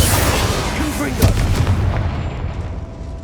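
A Confringo fire spell explodes in Hogwarts Legacy, one sharp blast bursting out about a second in over a dense, rumbling battle din that slowly fades.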